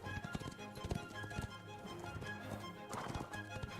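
Horse hooves clip-clopping in the fantasy video game Ashes of Creation, a steady rhythmic run of soft hoofbeats under layered game ambience and music, fairly quiet.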